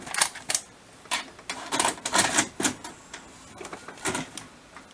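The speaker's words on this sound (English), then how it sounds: "so I'll pop the tape in" VHS cassette pushed into a VCR beside a vintage CRT TV: a run of plastic clicks, clatters and mechanical thunks, close and moderately loud, with no talking.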